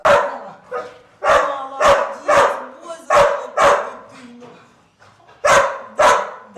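A dog in a shelter setting barks repeatedly, loud and close, in short sharp bursts with brief pauses between them.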